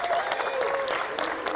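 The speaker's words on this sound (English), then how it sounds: "Let's give a round of applause to Susanna." Brief crowd applause during a live morning show, a short dense patter of clapping with some voices and cheers in the room.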